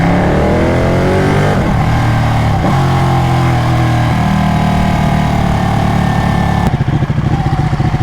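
A Ducati Panigale 1199 superbike revs hard through a tunnel, its loud, booming engine note climbing through gears with echoing reverberation, then dropping to a rough, pulsing throttle-off burble near the end.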